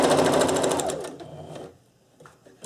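A sewing machine stitches an elastic casing on a surgical scrub cap: a fast, rapid-fire run of needle strokes that slows and fades out, then a soft click.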